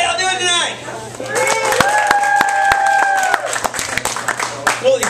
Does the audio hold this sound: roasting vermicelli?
no